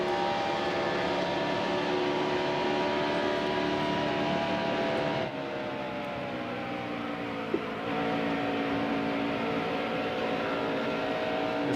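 A stock car engine in the racing game NASCAR Heat Evolution drones at Pocono, a steady high whine that briefly drops off the throttle midway, then climbs back to full song.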